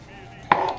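A single sharp knife chop through flat leaf Italian parsley on a cutting board while preparing Italian meatballs, one crisp close thud with nothing after it.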